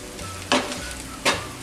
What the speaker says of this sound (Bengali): এই সমস্ত গুঁড়ো মশলা আমি দিয়ে দিলাম, দিয়ে আমি ফ্লেমটাকে লো করে এই সময় সমস্ত গুঁড়ো মশলা একটু পেঁয়াজের সাথে মিশিয়ে